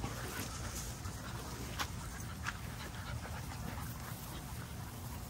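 Kennel puppy panting in quick, steady breaths close to the mic, with a few short whimpers and yips mixed in and no speech.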